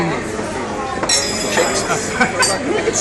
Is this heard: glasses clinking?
yes